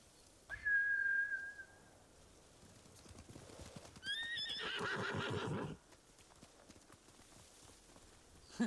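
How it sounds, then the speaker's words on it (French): In the Ghost of Tsushima video game, samurai horses neigh with a high whinny, followed later by a second whinny and a burst of galloping hooves clip-clopping, all fairly faint against a quiet background. "Ces montures de samouraïs sont dressées pour revenir vers leur maître."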